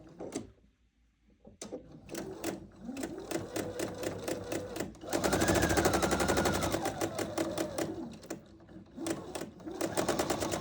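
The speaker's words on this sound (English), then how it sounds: "we're just gonna sew kind of right to that pin" A sewing machine stitching quilt pieces runs in rapid bursts of close, rhythmic needle chatter, pausing briefly before a long steady run and then resuming in shorter spurts.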